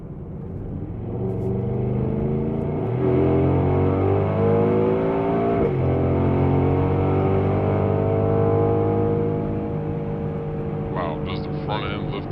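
A Mercedes-AMG GLE 63 S V8 SUV, blacked-out, accelerates hard in sport mode at night, its engine note swelling as it rises through the revs, with a shift midway and a steady loud drone heard from inside the cabin.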